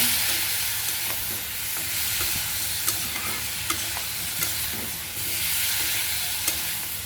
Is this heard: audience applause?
no